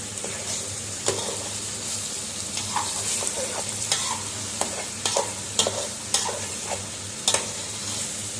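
A fish head dish is stirred in a frying pan, steady sizzling under repeated sharp scrapes and clinks of the utensil against the pan, close and moderately loud with no talking.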